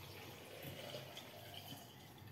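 Moonshine steadily pours over cherries into a glass jar, a continuous gurgling, splashing flow of liquid heard close up with no break for the whole stretch.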